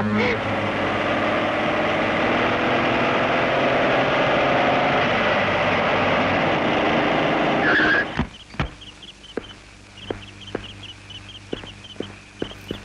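A car pulls up in a scene from a Hindi drama, a loud, sustained engine and road roar that cuts off sharply. A quiet, sparse stretch with scattered clicks and knocks follows.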